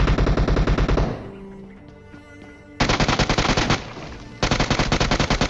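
Heavy automatic gunfire in a video game battle at a military base, three loud rapid-fire bursts separated by brief lulls with faint ringing, close and dominant.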